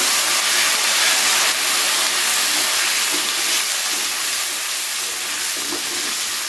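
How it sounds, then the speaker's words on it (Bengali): Chopped capsicum fries in hot oil with ginger paste, giving a loud, steady sizzle and hiss that carries on unbroken throughout. "তো এবারে খুব ভালো করে একটু ক্যাপসিকামটাকে কিছু সময় ধরে ভেজে নেব।"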